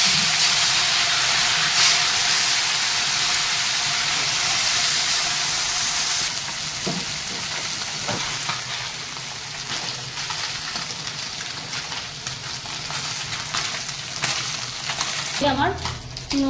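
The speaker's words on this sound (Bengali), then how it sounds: "আমার চুনো মাছটা ভাজা হয়ে গেছে" Small chuno fish coated in salt and turmeric sizzle loudly in hot oil, a continuous crackling hiss with occasional stirring scrapes and clinks, close up and steady throughout.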